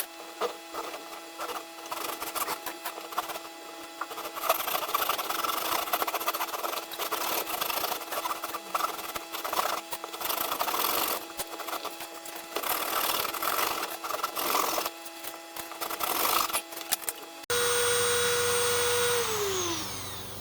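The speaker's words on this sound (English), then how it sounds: "we're using a 1/4 inch burr bit. I may not have hit record. We're hollowing this out." A rotary tool fitted with a 1/4 inch burr bit hollows out a wooden fishing lure, a steady close whine with grinding and buzzing variations as the bit bites into the wood, changing pitch near the end.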